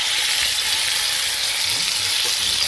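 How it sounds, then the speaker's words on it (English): Seasoned conch frying in hot oil in a pot, a steady loud bright sizzle that holds evenly throughout, close up with no voices. "What I like to do is fry them a little bit"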